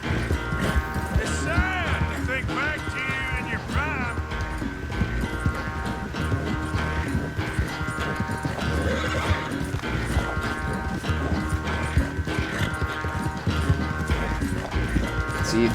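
Thor, a horse in Red Dead Redemption 2, gallops with rapid clip-clop hoofbeats and neighs over a dense game soundtrack, with brief talk mixed in.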